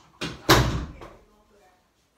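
A door opened indoors, giving a short thud and clatter followed by a sharper bang, then quiet; the sounds are close and fairly loud.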